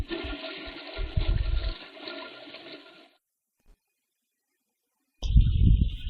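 A toilet flushes in the horror game The Mirror Lied, a loud rushing gurgle of water that cuts off after about three seconds, followed by silence and then another burst of heavy watery rushing.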